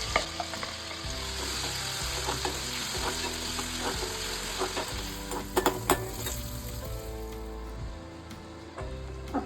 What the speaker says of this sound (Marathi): हा कांदा छान फ्राय झाला